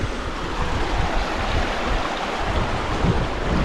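River water flowing steadily along a hiking trail in Georgia, a continuous broadband rush with low rumble and some wind buffeting on the microphone, fairly close and even throughout, no voices.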